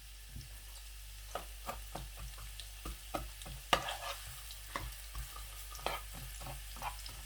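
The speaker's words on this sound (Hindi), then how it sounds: "प्याज को अच्छे तरीके से पकाना है" Onions fry on a tawa for beef liver, heard as a quiet background sizzle broken by frequent, evenly spaced scraping and tapping strokes of a spatula; no one speaks.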